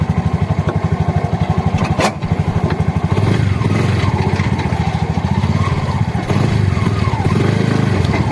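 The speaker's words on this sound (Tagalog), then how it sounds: "walang itnit yung makina" A Bajaj Maxima Z three-wheeler's engine idles steadily and close up, with a regular pulsing chug that runs evenly throughout and has a single thud near the two-second mark.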